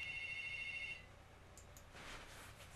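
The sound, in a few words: phone ringtone ringing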